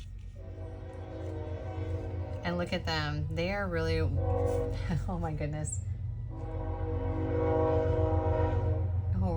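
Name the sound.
train passing with horn sounding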